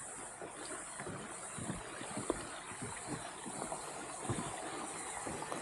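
Steady roar of a waterfall along a hiking trail on Tasmania's east coast, a constant broadband rush of falling water with faint low thumps, moderately distant and heard alone without talk.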